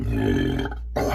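A long, loud burp rumbles steadily for about a second at close range, cuts off abruptly, then picks up again briefly.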